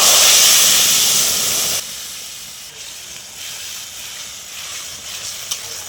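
Mustard seeds and torn dried red chilies tempering in hot oil give a loud hissing sizzle that stops abruptly, leaving a quieter steady hiss that gradually fades.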